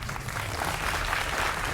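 An audience at a Bihar election event in Patna gives a short burst of steady, dense applause that fills the whole moment without any voice standing out.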